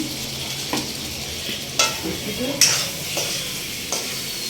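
Potato pieces being stirred as they fry in a little oil in a pan, a soft steady sizzle broken by several sharp scraping strokes of a spatula.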